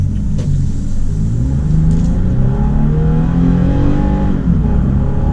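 A 2020 Toyota Tacoma TRD Pro truck with a 6-speed automatic accelerates up to freeway speed, a steady loud engine drone and road rumble rising through the gears, heard from inside the cab.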